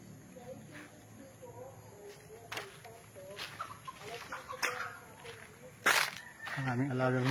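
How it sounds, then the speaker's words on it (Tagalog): Chickens cluck intermittently nearby on a farm lot in Cavinti, Laguna, amid footsteps and quiet talking, with a rooster-like call near the end. "Ang aming alagang manok."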